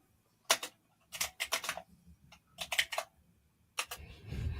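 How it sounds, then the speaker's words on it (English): Clattering computer keyboard keys in irregular bursts of quick, sharp clicks separated by short pauses, close and fairly quiet, with a low rumble rising near the end. "I hear you typing."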